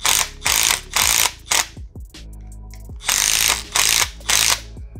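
Brake caliper pins for a 250R are snugged down with a ratchet in loud bursts of rapid clicking near the microphone. Short pauses between bursts and a low hum in the middle break up the work.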